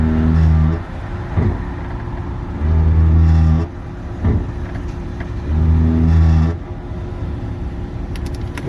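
A car's ABS module runs an automatic brake-bleed test activation, giving loud low pump-like bursts that start and stop in a repeating on-off pattern, with quieter rumbling gaps between them and no talk.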